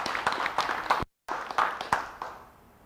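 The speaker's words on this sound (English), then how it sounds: "Clap for Brian." Modest applause at a K9s For Warriors graduation ceremony: a small group claps in distinct, fairly quiet beats with a brief break, tapering off at the end.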